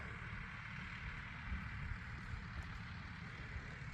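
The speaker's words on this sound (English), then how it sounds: "Got the machine still running over there idling." A hydraulic farm machine used for rock farming and stump grinding idles steadily in the background, its low broadband drone holding even throughout with no voices.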